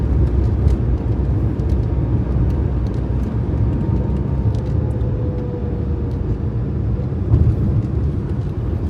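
A Maruti Alto hatchback drives along with a steady engine drone and road rumble, loud and continuous from inside the car, with faint rattles and a brief swell near the end.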